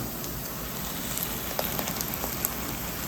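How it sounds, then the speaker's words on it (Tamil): Ground masala paste fries in a pan for kadai paneer with a soft, continuous sizzle and a few sharper pops and spatters close by. "இப்போ நம்ம அரைச்சி வச்சிருந்த மசாலாவை இதில் ஆட் பண்ணிடலாம்."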